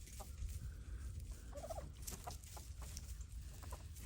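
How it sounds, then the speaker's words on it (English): Free-ranging chickens on a homestead in January, with a few soft clucks and short calls at a distance over low outdoor rumble, faint overall. "Chickens will go everywhere."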